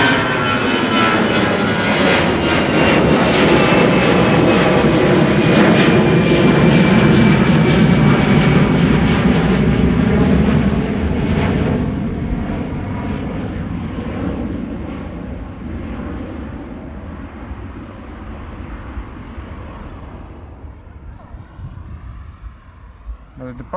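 EasyJet airliner departing Amsterdam Schiphol: a loud, close jet roar with a high engine whine that peaks early, then slowly fades as the aircraft climbs away, leaving a faint rumble.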